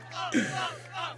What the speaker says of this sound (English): This chant was constant.